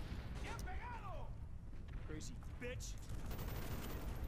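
Quiet gunfire from the Call of Duty Black Ops video game crackles in a few short bursts, with faint game sounds underneath.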